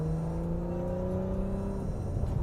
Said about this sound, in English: The exhaust flaps have opened and the exhaust is just singing a music to the back of my head.